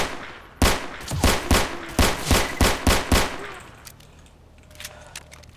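PPSh submachine gun firing in the video game S.T.A.L.K.E.R., a loud burst of about ten rapid shots in quick rhythm, then fading echo and quiet ambience.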